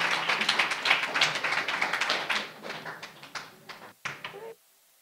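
A school board meeting audience gives a round of applause, dense clapping at first that thins into scattered claps before stopping abruptly near the end.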